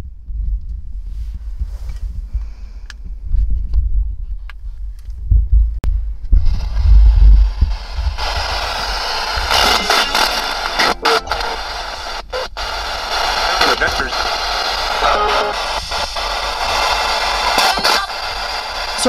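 A spirit box radio sweeps through FM stations, first with low rumbling thumps and faint blips, then bursting into loud, harsh broadband static with choppy fragments as it scans, close and continuous.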